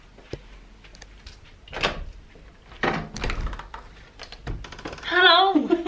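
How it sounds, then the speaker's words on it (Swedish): Knocks on a hotel room door sound as a few dull thuds spread across the moment, close and moderately loud, followed by a brief burst of voice at the end. "Nu knackar Emma på dörren."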